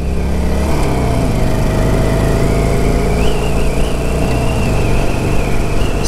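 Steady, loud engine drone of a stock 2021 Harley-Davidson Sportster 48 1200 motorcycle cruising in fifth gear near 65 mph, continuous throaty rumble with wind noise throughout, no talk.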